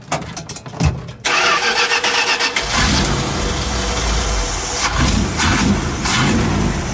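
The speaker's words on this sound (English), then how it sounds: "Starting it," A low-budget car with a backfiring problem cranks briefly and then fires up, settling into a loud, rough, close idle that carries on steadily with a few slight surges and no talk.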